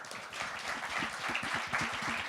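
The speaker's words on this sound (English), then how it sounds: "a round of applause for everyone at Sonic Visions" A conference audience at a music and technology panel claps together in a full, even burst of applause that holds at a steady level across the moment, with no talking over it.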